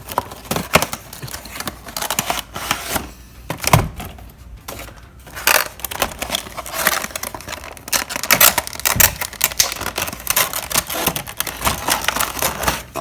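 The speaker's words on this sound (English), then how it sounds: "Alright, let's unbox it." A Gemini Jets Lufthansa A350 model box being opened up close, with a continuous run of crinkling, scraping and sharp clicking packaging noises, irregular and fairly loud, with no one speaking.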